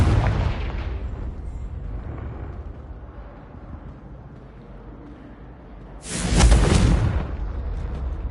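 Confringo blasting spell in Hogwarts Legacy on PS5: a loud, close, booming explosion erupts for about a second over a continuous low roar, which then settles back to a rumbling ambience.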